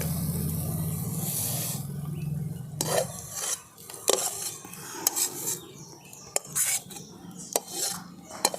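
Spoon scraping and stirring ghee around a metal plate while making potato chomchom sweets, a steady rasping swirl at first, then a string of sharp clinks and scrapes, close up with no talking.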